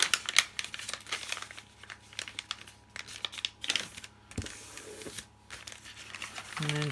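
Paper is folded and creased for a simple journal cover signature, with close crinkling, rustling and light tapping sounds coming in irregular bursts and a voice speaking briefly.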